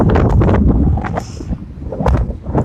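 Gusty wind roars and buffets the microphone in uneven surges, close and loud, with a few faint voice fragments between gusts.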